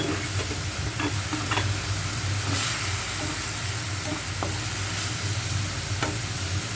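Bell pepper and carrots stir-frying for fried rice, a steady loud sizzle and hiss with occasional scraping and clinking of the utensil against the pan, continuous throughout.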